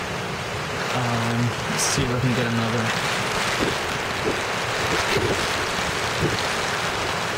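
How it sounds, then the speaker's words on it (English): Heavy rain pours steadily through Tropical Storm Irene in Boston, a dense broadband wash with gusting wind, continuous and loud throughout while someone speaks briefly over it. "It has been pouring."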